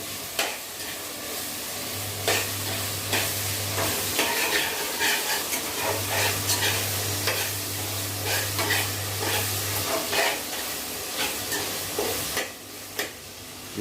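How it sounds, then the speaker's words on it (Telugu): Dried fish and brinjal frying in a pan: a steady close sizzle with intermittent scraping and stirring clatter, loud throughout with a brief dip near the end. "ఈ ఎండు చేప పచ్చివాసన పోయేదాకా వేపుకోవాలి"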